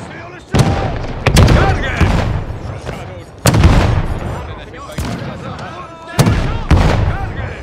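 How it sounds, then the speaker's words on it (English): Four-pounder cannons fire in Pike & Shot Total War, a Battle of Rocroi (1643) scene: several loud, sharp booms in irregular succession, each with a rolling decay, while a voice talks between the blasts. "They've got the cannons of 4 pounders here. They're already blasting."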